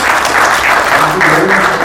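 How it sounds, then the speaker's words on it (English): A loud, close burst of audience applause at a leadership event, thick continuous clapping from a crowd through the brief moment. "can we give a big round of applause?"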